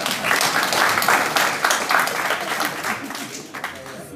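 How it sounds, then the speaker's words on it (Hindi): An audience at a talk claps steadily. The dense, loud applause holds for several seconds and then thins out toward the end. "इसके लिए ताली मारो"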